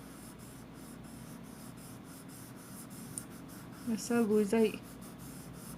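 Soft pastel chalk rubbed back and forth across paper in an art drawing lesson, a steady run of short, even scratchy strokes close up throughout, with a person briefly speaking over it near the end.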